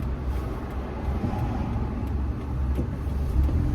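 Busy midday road traffic around a car in town, a steady low rumble of engines, with buses and trucks passing close by and faint brief clatters, and no talk.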